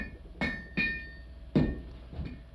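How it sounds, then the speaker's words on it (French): Blacksmith's hammer striking an anvil in a farrier's shop at a historic Ontario village, four ringing metallic blows at irregular spacing, each with a bright tonal ring that decays, heard close and alone. "le bruit du marteau sur l'enclume"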